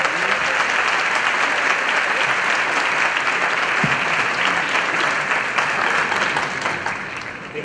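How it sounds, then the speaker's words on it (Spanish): Loud, sustained audience applause fills a debate hall, dense steady clapping with no pauses that thins slightly toward the end. "Un aplauso"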